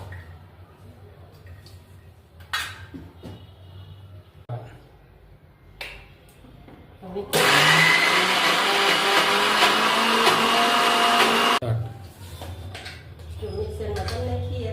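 A kitchen mixer grinder runs loud and steady for about four seconds while greens and spices are ground, with talk before and after the burst.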